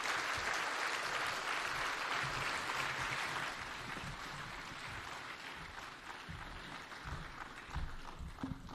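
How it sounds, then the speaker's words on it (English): A standing audience at the opening of a MEDS microbiology laboratory gives sustained applause for the President of Kenya, loud at first and then easing slightly while continuing to the end. "give a mighty, mighty clap to His Excellency the President"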